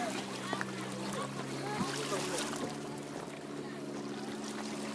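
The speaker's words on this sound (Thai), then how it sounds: "นี่ครับเรือมาถึงแล้วนะครับ" Boat pulling up to a flooded, partly submerged old temple on a reservoir, a steady low motor hum with water wash, moderately near, with people talking and outdoor ambience around it.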